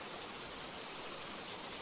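Heavy rain in a storm falls in a dense, steady hiss with no pauses, close and even, and no one speaks over it.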